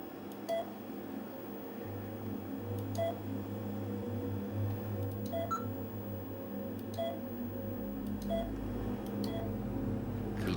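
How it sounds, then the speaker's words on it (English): A tree-ring measuring device gives short electronic beeps at irregular intervals, one per ring, over a steady machine hum, about eight in all, clear and close with no speech. "Each of those beeps is the measurement of a ring."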